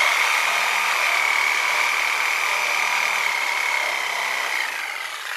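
A Sawzall reciprocating saw cuts through a part on a Yamaha XVS 1100 Drag Star Classic motorcycle being disassembled, giving a loud, continuous high buzzing whine that eases slightly toward the end, with no talking.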